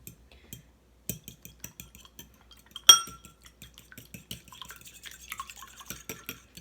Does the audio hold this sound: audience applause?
no